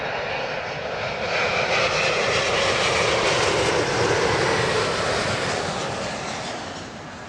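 A plane's engines at Heathrow Airport roar in a broad, loud wash that swells through the middle and eases slightly toward the end, steady and continuous with no voices.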